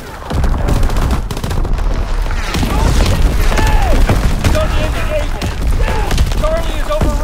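Artillery fire and gunfire in a Call of Duty WWII domination match on the Shipment 1944 map: dense loud continuous shooting and booms, with game voices and chatter mixed in throughout.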